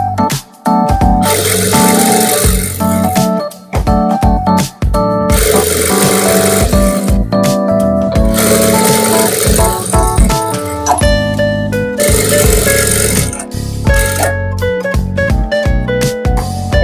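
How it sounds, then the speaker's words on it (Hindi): Sewing machine stitching princess-cut blouse pieces together, a loud, steady motorized whir running in several long bursts with brief pauses between seams, close and dominant with no talk. "इसको इसके ऊपर रखते हुए सिलाई लगा लेंगे।"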